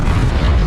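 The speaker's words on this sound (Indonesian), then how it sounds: "kapal selam Konik meledak dari dalam." An Akula-class submarine, the Konik, blowing apart from within in a film sound effect: a loud, sustained, deep rumbling blast that fills the whole short moment with heavy low-end roar.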